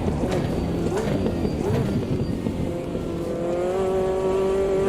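Turbocharged race car engine in the Automobilista 2 racing game, a loud continuous drone rising in pitch as it accelerates through a long sweeping corner, with talk over parts of it.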